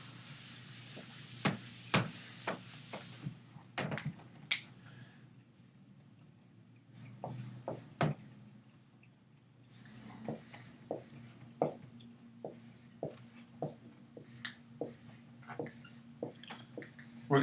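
Marker or pen rubbing and tapping across a writing surface in irregular strokes and short squeaks, close and fairly quiet, with occasional louder taps.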